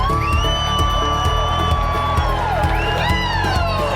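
A large crowd cheers and whoops loudly and continuously for a speaker at a political event, with rising whoops and yells over a dense, steady roar.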